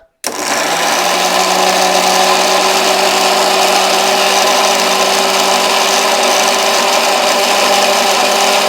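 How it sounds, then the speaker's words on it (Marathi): A mixer grinder blends papaya leaves with water into a paste, starting abruptly and holding a loud, steady high-pitched whir with a constant motor hum for the rest of the clip. "तर चला, करूया आपण मिक्सर स्टार्ट."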